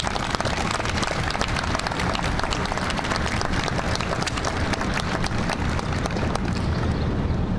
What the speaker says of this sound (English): Please, a big round of applause for our Gold Star family members.